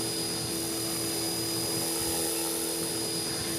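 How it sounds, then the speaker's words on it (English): An Align T-REX 450 RC helicopter hovers at steady altitude, its rotor and motor giving a continuous, even whine and buzz that stays close and loud throughout, with no voices. "The helicopter will hover at a certain altitude."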